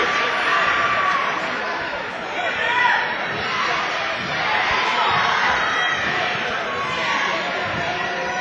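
Packed high school basketball gym crowd roaring and cheering steadily during free throws, a loud, continuous wall of voices with swells around the middle and no pause.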